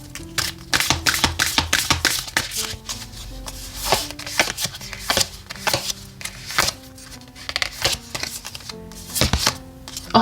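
Oracle cards are shuffled by hand in repeated quick riffling bursts and taps, close and fairly loud, with brief pauses between handfuls and no speech.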